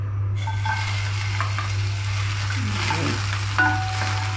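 Butter sizzles in a pan, the start of cooking chicken humba, with a steady soft frying hiss, a few light stirring scrapes and a constant low hum beneath.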